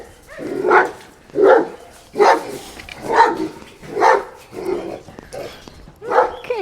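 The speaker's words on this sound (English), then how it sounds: "I hear what sounds like a mountain full of dogs begin to bark." Dogs bark repeatedly at a distance across a hillside, seven or so evenly spaced woofs echoing in a steady rhythm over quiet outdoor background.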